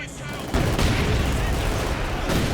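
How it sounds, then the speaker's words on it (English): Rapid submachine gunfire from Soviet troops in the strategy game Company of Heroes 2, a dense rattling burst that continues steadily after a quieter start, with no voice heard. "So many submachine guns being wielded currently by the Soviets here on the Jove"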